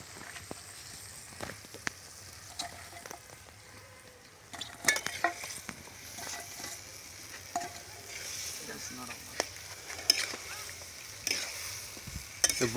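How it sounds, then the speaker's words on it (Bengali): Broccoli stir-fried with mushroom chicken in a pan: a soft, steady sizzle under repeated scraping and stirring strokes, growing busier and louder halfway through, close up with no talking. "ব্রোকলি দিয়ে আবার একটু কষাবো।"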